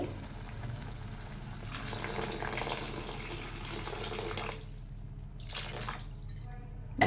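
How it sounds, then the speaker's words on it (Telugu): Water pours steadily into a pot of curry for a few seconds, then stops, followed by brief quieter splashes; close by, with no talking. "కొద్దిగా వాటర్ యాడ్ చేసుకోవాలి"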